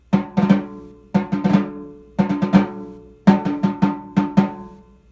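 A snare drum plays measures 14 and 15 of an etude: four clusters of sharp strokes, each ringing out before the next, with no talking.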